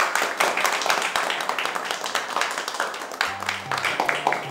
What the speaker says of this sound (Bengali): ওর জন্য একটা হাততালি